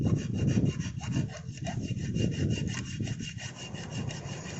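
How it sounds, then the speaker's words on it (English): A triangular hand file works the corners of a metal workpiece in a fitting job, a continuous run of close, rhythmic rasping strokes with no talking. "you use the triangular files for the corners"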